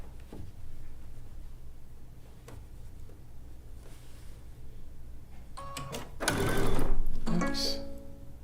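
A sewing machine stitches a zig zag quilt in a studio with short bursts of running. A louder mechanical whirr and clatter near the end follows as the machine comes unthreaded. There are a few faint background noises.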